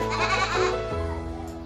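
A goat on a goat farm gives a loud, wavering bleat close by, one sustained nasal cry that trails off into quieter low bleats.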